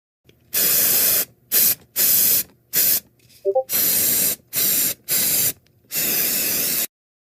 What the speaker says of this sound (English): I will pepper spray your eyes